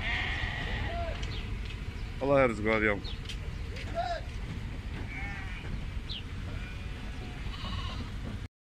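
Several Naimi sheep bleat in short bursts at a livestock auction in Buraydah, over a murmur of background noise, with someone speaking nearby.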